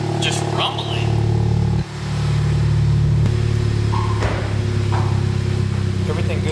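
A 2021 Honda Civic Type R fitted with a MAPerformance street exhaust rumbles steadily up close, with a brief dip in the low drone and a voice speaking over it.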